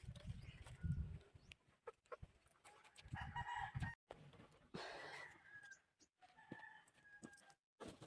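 Fighting chickens cluck and squawk in short bursts at close range, with scuffling and rustling between calls.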